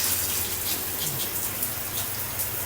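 Shower spray from a Moen tub faucet, a steady broadband hiss of water falling on the tub surface, continuous and moderately loud with no talking.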